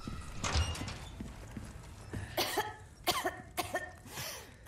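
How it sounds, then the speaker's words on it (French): A character in the video game Resident Evil 4 Remake coughs several times in quick, rough bursts, loud and close, over a low background rumble. "Ah, commence à tousser."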